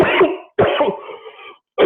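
A person coughs in two harsh, throaty bursts close to the microphone, separated by brief silence, with the start of a third cough cut off at the end.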